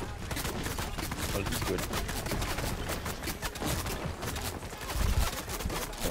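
Rapid bursts of automatic gunfire in a first-person shooter video game keep clattering throughout, with a heavier thump near the end, while a player talks briefly over the shots.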